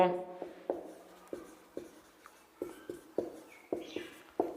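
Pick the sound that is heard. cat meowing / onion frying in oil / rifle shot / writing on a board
writing on a board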